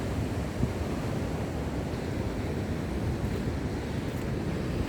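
Seashore waves and wind along the beach at Tanpael, Tigbauan, Iloilo, a constant rushing surf wash with heavy wind buffeting the microphone, steady and unbroken throughout.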